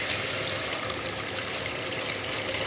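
Water pours into a cooking pan of shrimp curry as a steady, continuous rushing splash at moderate volume, with no talk.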